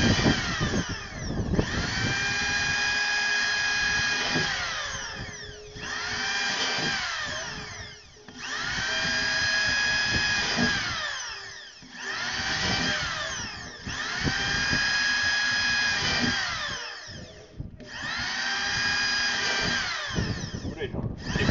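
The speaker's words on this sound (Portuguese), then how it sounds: "Você vai vir na marcação e vai vir furando" Power drill boring through a plastic water tank, a steady loud whine that rises and drops in about six bursts with short pauses between them, and no talk over it.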